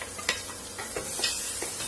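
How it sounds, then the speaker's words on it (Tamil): Finely chopped garlic and ginger sautéing in butter in a pan, a soft steady sizzle broken by several sharp clicks and scrapes of stirring, close and fairly quiet with no speech. "இது லேசா வதக்கிக்கலாம்."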